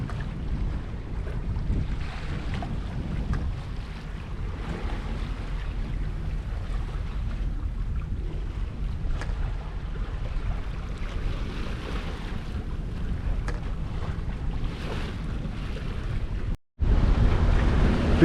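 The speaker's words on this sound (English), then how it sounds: "We put the engine on because the anchorage is dead upwind. So we're motoring the last couple of miles." A sailboat motors under engine upwind toward an anchorage off Sint Maarten, with a steady low engine drone, rushing water and constant wind buffeting the microphone, cut by one brief dropout near the end.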